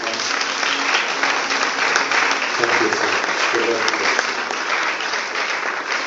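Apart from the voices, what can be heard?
congregation clapping in church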